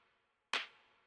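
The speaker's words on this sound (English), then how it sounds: "a more like MIDI punch clap" A single sharp, punchy electronic clap hits once after a brief pause, with a quick decaying tail, over a faint background hum.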